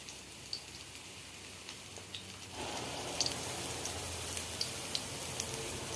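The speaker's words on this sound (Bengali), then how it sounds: "ছাতু ভাজতে একটু সময় লাগবে, গ্যাসটা একটু কম করে দিচ্ছি।" Sattu, roasted gram flour, being pan-fried over lowered gas heat, turned until crisp: a soft, steady crackling sizzle that thickens partway through, scattered with faint ticks and pops, close and alone with no talk.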